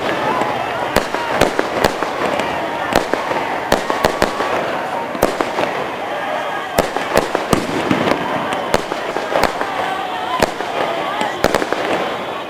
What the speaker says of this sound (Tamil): எங்கு பார்த்தாலும் பலத்த சப்தத்துடன் வெடிக்கும் பட்டாசுகளும் கண்களை கவரும் வகையில் வர்ணஜாலம் காட்டும் வெடிகளுமாக காணப்படுகின்றன.